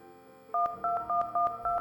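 A cell phone being dialed in a video game about investigating an aircraft crash: a quick run of about five two-tone keypad beeps in a steady rhythm, close and clear over a quiet background.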